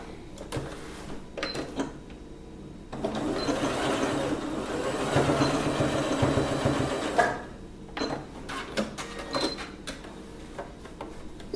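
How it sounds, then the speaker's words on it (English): A sewing machine runs in a steady stitching burst of several seconds while closing the ends of a skirt waistband, bracketed by short clicks and handling noises before and after. "we need to stitch, we need to close the ends of our waistband"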